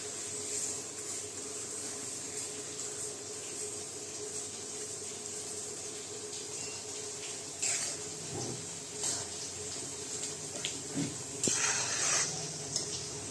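Sesame seeds stirred into a pan with fried curry leaves and coriander for roasted poha chivda, giving a soft continuous sizzle with faint scraping stirs and a few light clinks, steady and fairly quiet.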